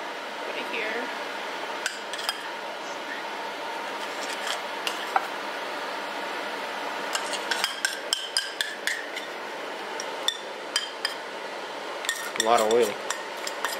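A spoon scrapes and clinks steadily against a bowl while homemade bibimbap with sesame oil is stirred, a close, irregular clatter under occasional talk.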